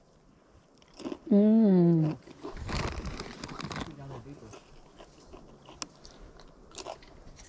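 Crunchy snack bitten and chewed outdoors during metal detecting, with a few close crunches following a hummed sound, then fainter chewing.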